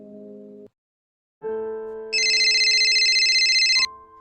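A telephone signals an incoming call: a short low tone, a pause, then a steadier chime and a rapid high trilling ringtone, loud and close with no talk.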